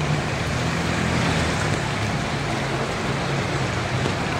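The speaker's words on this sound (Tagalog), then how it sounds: "So hintay lang natin kasi maulan, maambon-ambon." Steady rain falls as cargo is loaded onto a boat bound for Santa Rosa, a dense, even hiss with a low rumble underneath and no talking.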